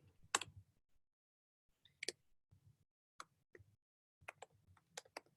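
A computer keyboard being typed on while writing code, in short bursts of crisp, close key clicks separated by brief pauses, with no voices.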